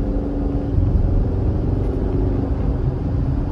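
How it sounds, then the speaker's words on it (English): A 2020 Ford Mustang EcoBoost convertible's four-cylinder engine hums steadily at low pitch, building gently as it accelerates in Sport Plus mode, with a continuous rumble and no voices. "a little bit of an acceleration to give you guys a little bit of that engine noise."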